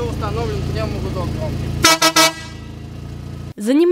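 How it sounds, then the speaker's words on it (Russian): Pneumatic air horn fitted to a tuned car at a car tuning and car audio festival gives three short, loud blasts in quick succession, sounding over a steady low hum with a voice talking before them. "Также еще установлен пневмогудок."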